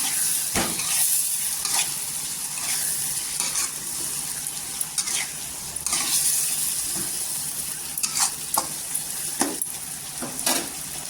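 Four chopped tomatoes with salt sautéed in oil in a pan for a spicy shev bhaji curry, a steady near sizzle punctuated by sharp scraping stirs of a spatula, with no talking.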